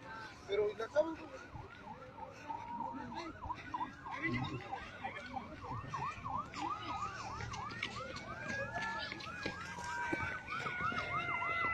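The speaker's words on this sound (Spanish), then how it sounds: "Se escuchan ambulancias, se escuchan sirenas." Ambulance and emergency sirens wail in overlapping rising and falling cycles at the scene of a 2019 explosion in Hidalgo. They sound moderately distant, over street noise and faint voices.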